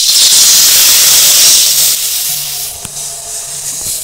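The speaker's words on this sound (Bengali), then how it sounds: "এবার আমি এই কড়াইয়ের মধ্যে জল দিয়ে দেবো।" Water hits a hot wok just after fish have been fried in it. A loud, close burst of hissing, sizzling steam starts at full strength, then slowly fades, with a few faint clinks near the end.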